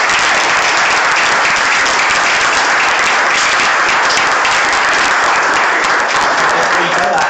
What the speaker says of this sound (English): Just give me a round of applause.